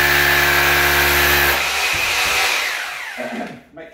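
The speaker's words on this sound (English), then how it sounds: "just drilling a hole in the wall" A power drill bores a hole into a wall for a wall plug while fixing timber, a steady loud whine for about a second and a half, then grinding and rattling as the bit bites in before it winds down.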